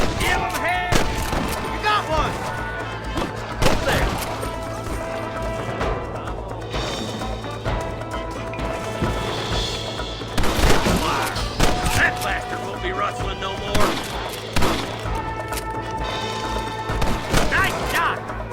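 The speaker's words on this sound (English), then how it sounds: "Good shooting, boy" Gunfire in Red Dead Redemption: a shootout of loud sharp revolver and rifle cracks at irregular intervals with thuds and echoes, set against background game ambience and voices.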